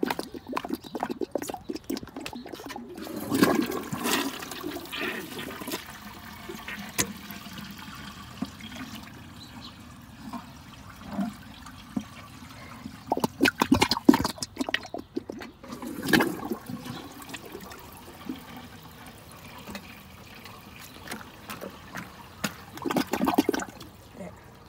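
A Tofino toilet flushes with a loud gurgling rush of water that swells and fades in several surges, followed by trickling and refilling.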